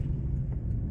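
A car rolls along in second gear during a beginner's driving lesson, its engine giving a steady, close, low rumble from inside the cabin without a break.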